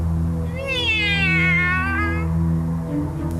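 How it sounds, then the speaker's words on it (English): A cat lets out one long, drawn-out meow, clear and fairly close, over a steady low hum, with no one talking during the call. "Stupid cat."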